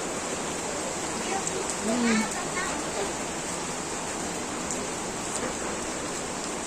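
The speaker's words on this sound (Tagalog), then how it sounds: "Kasi tayo mababasa sa ulan." Rain pours steadily onto a school roof, a dense, even hiss that holds unbroken throughout, with a brief faint voice murmuring underneath.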